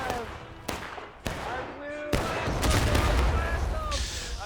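Musket volleys in the Civil War video game War of Rights at Antietam's Bloody Lane, sharp loud shots and ragged rolling fusillades, some near and some distant, under a voice talking.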